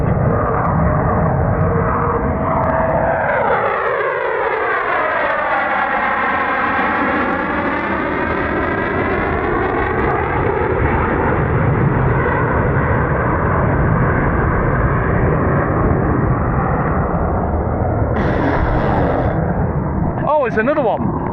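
F-15 fighter jets flying low over a lake, a huge roaring rumble with a sweeping pitch shift as one passes overhead, staying loud throughout before another approaches, with people talking over it.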